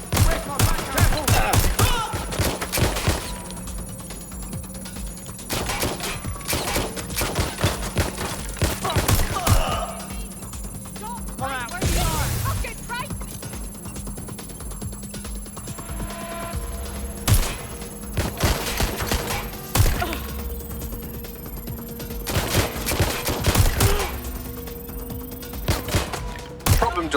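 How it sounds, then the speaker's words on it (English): Gunfire in the Watch Dogs Legion video game: scattered single shots and sharp volleys crack repeatedly throughout, some clustered in dense bursts, over a sustained tonal game score. "They're shooting at us!"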